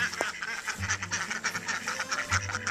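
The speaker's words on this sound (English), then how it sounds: "Might as well show you the ducks real quick." Farmyard ducks quack and honk in repeated short bursts nearby, a lively irregular chorus with no talk.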